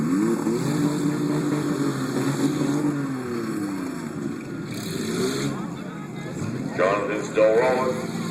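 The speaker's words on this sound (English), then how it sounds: "Someone's got the rev limiters on." Demolition derby car engines at a Bridgewater, Nova Scotia exhibition, one bouncing steadily off its rev limiter in a continuous loud drone, with an announcer talking over it and a brief louder burst near the end.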